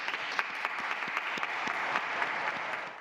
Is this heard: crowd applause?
yes